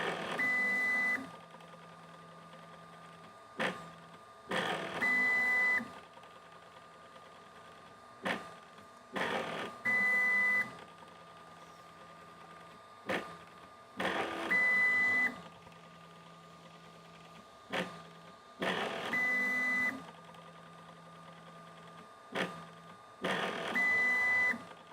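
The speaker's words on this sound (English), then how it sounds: "quad gantry leveling is done" A Sovol SV08 3D printer runs quad gantry leveling, with repeated bursts of stepper motor whine and steady tones broken by short pauses, close and alone.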